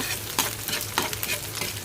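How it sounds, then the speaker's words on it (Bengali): Garlic frying in oil for beef curry, in the same pan where onions were browned, giving a loud continuous sizzle with periodic scraping stirs up close. "এটার মধ্যে রসুনটা ভেজে দিয়ে দিচ্ছি"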